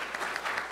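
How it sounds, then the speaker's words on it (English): Brief burst of steady audience clapping at a US–Mexico policy forum, honouring the students present, moderately loud and continuous with no voices over it. "I just have to give a round of applause to all the students that are here"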